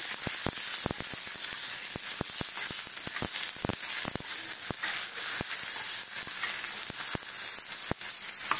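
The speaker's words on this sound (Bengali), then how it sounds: "এদিকে কলাটা আমি ভেজে তুলে নেব।" Plantain slices sizzle steadily in hot oil in a pan, a dense continuous frying hiss broken by frequent sharp crackles and pops, close and loud throughout.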